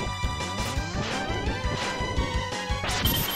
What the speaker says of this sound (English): When there's an explosion, glass breaks for days.